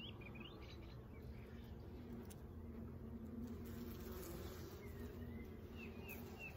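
Honeybees swarm around a hive frame holding a mated queen during an artificial swarm split, their faint, steady buzzing hum continuing throughout, with occasional distant bird chirps.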